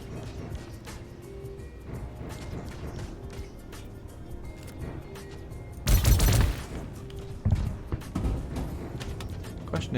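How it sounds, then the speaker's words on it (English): Bursts of gunfire in the Star Citizen video game, a sharp loud volley around the middle followed by a few shorter cracks, over a steady droning game-world background. "Why do I hear shooting?"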